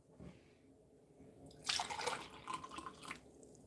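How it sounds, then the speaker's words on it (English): Water is poured into a cup of concentrated tea, a short close trickle that swells into a brighter splashing pour for about two seconds before tapering off. "I'm pouring the tea into here and just adding some water."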